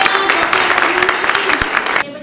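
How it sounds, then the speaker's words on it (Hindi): Dense, lively applause from a large crowd at a women's medical awareness seminar, continuous clapping filling the space before cutting off abruptly near the end. "भरपूर से तालियां"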